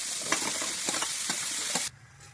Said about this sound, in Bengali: এবার আমি পটলটা একটু ভেজে নেবো এই তেলের উপরে দিয়ে দিচ্ছি